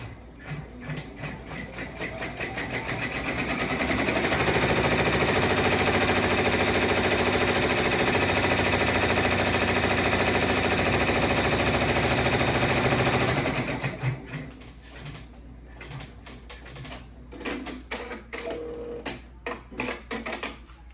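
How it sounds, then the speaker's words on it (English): A home embroidery machine stitching a placement outline for an in-the-hoop soccer-ball coaster, a loud, steady rapid needle rattle that runs for several seconds, then gives way to slower, uneven mechanical clicking and stops; no voices. "it's going to do that placement stitch again"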